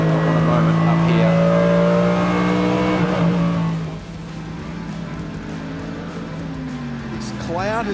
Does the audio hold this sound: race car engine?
yes